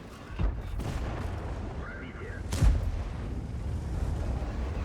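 Two heavy tank gun blasts in a video game boom about two seconds apart over a constant rumbling engine drone, with a faint whirring tone between them.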